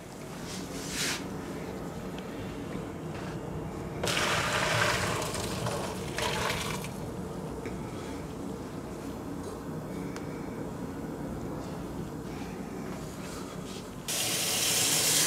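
Cooked macaroni being drained, water pouring and splashing steadily into a sink with clattering bursts as the pot tips, ending in a louder rush of running water.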